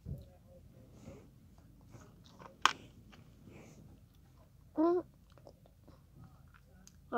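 Sour green apple candy chewed close up, soft wet chewing and crunching with breathing and a few brief louder mouth sounds, some faint voice in the background.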